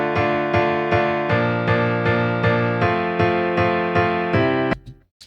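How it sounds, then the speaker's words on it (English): Piano keys patch from a rock mix: steady repeated chords struck in an even rhythm, bright and close, then cut off abruptly near the end. "There's a piano as well,"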